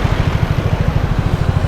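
A motorbike idles while stopped on MacArthur Boulevard. Its low engine throb pulses in a steady, even rhythm, close and fairly loud, with no voices.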